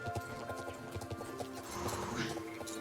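Horse hooves clip-clop in a steady walking rhythm in a video game, soft and mixed with game background sounds, with a faint whinny-like bit near the end.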